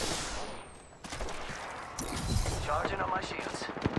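Rapid bursts of gunfire in the shooter game Apex Legends, close and dense automatic fire with overlapping impacts, under a character's voice lines.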